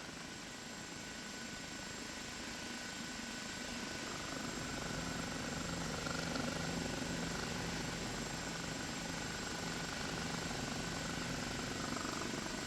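OH-58 Kiowa helicopter in the DCS flight simulator, a steady broadband rotor and turbine drone holding at a constant level throughout, with no talk.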